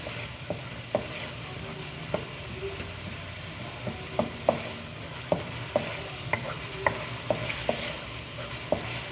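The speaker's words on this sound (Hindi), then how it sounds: "जो ज़ीरा है उसको भी डाल देंगे और इसको अच्छी तरह हमने भूनना है" Spices and cumin are stirred and fried in a pan for saag aloo, soft sizzling under repeated scraping clicks of a spoon against the pan, close and fairly quiet.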